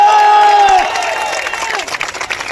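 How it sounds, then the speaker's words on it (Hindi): A crowd at an event welcoming SSC exam teachers claps loudly and cheers, with a bright shout or whistle at the start over dense, sustained applause that eases slightly. "आप एक बार अभिनय सर के लिए जोरदार तालियां बजाएं"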